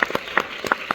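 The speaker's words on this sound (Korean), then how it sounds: "열정적인 큰 박수 부탁드립니다." Scattered hand claps ring out in a short burst at a musical camp lecture, a few sharp separate claps rather than a full, dense applause.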